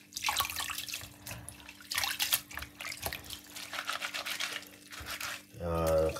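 Tap water runs over sea moss being washed in a sink, with splashing and trickling that rise and fall. Someone talks over the water, and a louder gush comes near the end.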